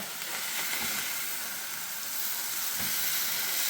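Chicken frying in a pan gives a steady, loud sizzle with a few soft knocks of pieces being flipped over partway through the cooking.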